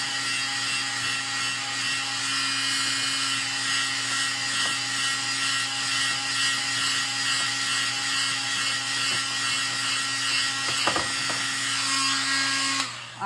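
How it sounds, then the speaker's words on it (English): A heat gun blowing hot air to dry paint on a stars and stripes flower bouquet craft, a steady close whine with a constant tonal hum, broken by a few faint clicks and a sudden stop at the end. "I don't want to get the heat gun too close to the paint or it'll actually peel it off of you."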